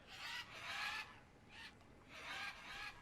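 Birds in the Green Hell video game screech and rasp in repeated bursts, three or four harsh squawking calls with short gaps between them, fairly faint and with no talk over them.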